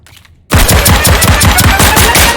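Pistol fire in the video game Deceive Inc., a loud rapid series of about a dozen evenly spaced shots starting abruptly after a brief quiet moment, close and punchy.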